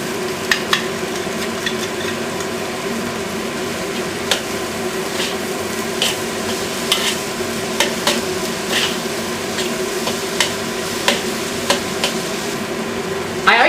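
Fried rice with Chinese sausage sizzles steadily in a hot wok as sauce is added, with a ladle scraping and tapping against the metal in irregular clanks over the constant frying hiss.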